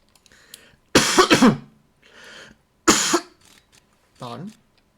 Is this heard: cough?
yes